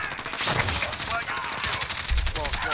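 Sustained machine gun fire in the video game Call of Duty Warzone, a rapid rattling burst lasting the whole moment, fairly loud with faint game noise underneath and a player talking over it.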